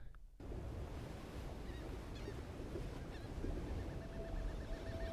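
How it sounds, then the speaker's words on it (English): Ocean waves playing back from a video, a steady broadband wash of surf that fills the whole clip at moderate level, with faint honking bird calls and a thin tonal whistle over the top. "there's like an ocean going for people that are not able to see the ocean"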